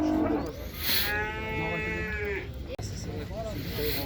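A bull lowing at a livestock market in Uzynagash, Almaty: one long drawn-out moo close by, with other livestock and crowd murmur in the background and a shorter call near the end.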